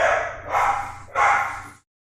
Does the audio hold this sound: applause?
no